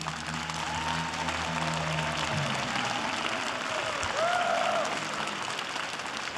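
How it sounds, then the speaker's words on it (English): A high school graduation crowd claps in steady, sustained applause filling a large hall, with no voices on top. "How about another round of applause for the fine educators who cheered you on?"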